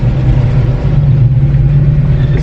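Dodge Charger SRT Hellcat engine idling and revving with a deep, loud, steady rumble and throaty low drone, close by and continuous with no break.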